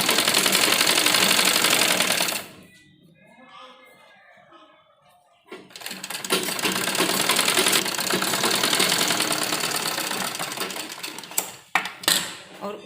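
A sewing machine stitches along the edge of an embroidered blouse, running in two long loud bursts separated by a quieter pause in which a voice speaks.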